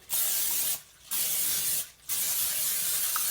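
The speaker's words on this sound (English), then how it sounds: "I'm going to spray it a little bit." Cooking spray mists into a casserole dish for a pork chop and potato meal in two long, steady hissing bursts with short pauses between them, close and loud, with no talking.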